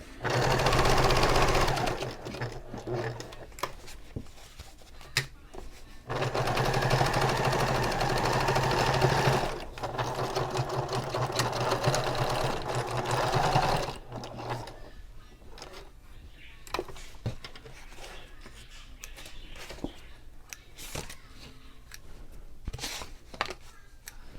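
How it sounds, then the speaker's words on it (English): A sewing machine stitches a handbag opening closed and joins it to the lining, running in loud continuous bursts with brief pauses and lighter stretches of rapid needle chatter. "I'm sewing this opening closed while I'm sewing this to the lining."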